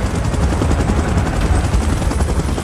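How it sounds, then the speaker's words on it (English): A helicopter in the video game PUBG Mobile roars loud and near, its rotor chop and engine whine forming a dense, steady thrum that fills the whole stretch without pause. "Chopper in position."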